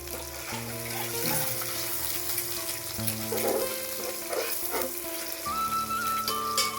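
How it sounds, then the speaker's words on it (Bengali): An egg fries in a pan with a loud, continuous sizzle while being stirred, with scraping spatula strokes and a faint tonal background running underneath. "ডিমটা ভাজা হয়ে গেছে"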